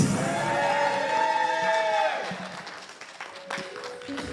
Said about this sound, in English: Keep those claps going for Edwanda White